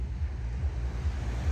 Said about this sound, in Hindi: पानी की आवाज भी सुनाऊंगी,